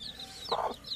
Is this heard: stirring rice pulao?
no